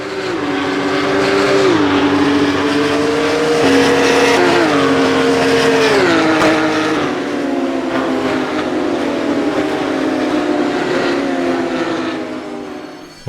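A Porsche Cup race car in the rFactor 2 racing simulator roars steadily and loudly, its engine pitch climbing and dropping through gear changes, with no talking.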